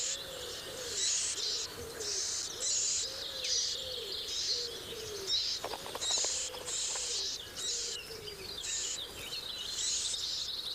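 Grey partridge with chicks in the British countryside, soft repeated low calls pulsing steadily beneath a dense layer of high chirping and tweeting from small birds, fairly close and continuous with no talk.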